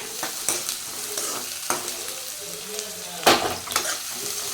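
Onions and green chillies fry in a pan with garlic, a steady sizzle broken by occasional scrapes and clinks of a spoon stirring against the metal.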